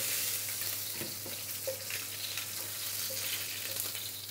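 Hilsa fish frying in hot oil gives a steady, close sizzle with scattered small pops and crackles throughout, and no voices.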